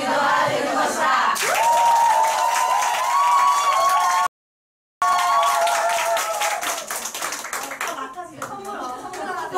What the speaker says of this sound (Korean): 왜 환호를 하고 박수를 크게 쳐야 되는 줄 아세요?